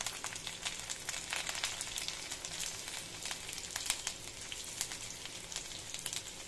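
Chopped garlic fries in a pan with a steady, close crackling sizzle, sharp pops scattered across the few seconds, alone and without talk.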